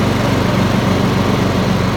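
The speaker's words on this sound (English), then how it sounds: "I'm now mowing the lawn" A lawn mower runs steadily while mowing the lawn, a loud, close, constant engine drone with an even low throb and no pauses.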